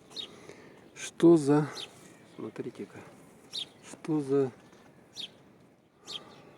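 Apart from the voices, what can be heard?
birds singing among birch trees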